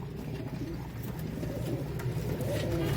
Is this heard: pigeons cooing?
yes